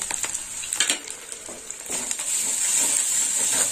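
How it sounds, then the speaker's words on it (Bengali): Chili and coriander powder sauté in a pan for a dish of ivy gourd, potato and egg, with scraping stirs at the start giving way to a steady, fairly quiet sizzle. "ভালো করে কষে নেবো।"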